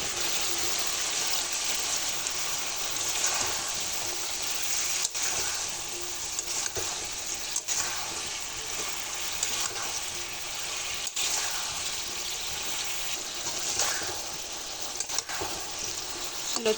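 Kochur loti (taro stolons) cook in a spice paste in the pan with a continuous, moderately loud sizzle and hiss, stirred now and then with short scraping strokes, and no voices.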